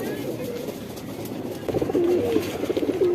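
Black Shahjahanpuri pigeons, a high-headed pair, coo in repeated throaty rolling phrases that grow louder and closer in the second half, over steady background noise.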